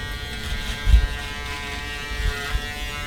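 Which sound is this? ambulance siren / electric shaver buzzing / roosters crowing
electric shaver buzzing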